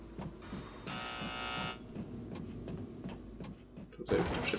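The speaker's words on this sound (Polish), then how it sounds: "Przez chwilę myślałem, że jakiś alarm się włączył." A buzzing, alarm-like tone in the video game Prey (2017) sounds for almost a second, steady and fairly loud, over a faint, busy background of ambient game sounds and clicks.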